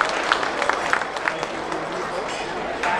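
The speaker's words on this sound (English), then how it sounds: "Let's give him a big round of applause." Dense crowd applause at a Fall Feast dinner in Toronto hosted by an MP, a steady wash of many hands clapping with scattered sharper claps and voices mixed in throughout.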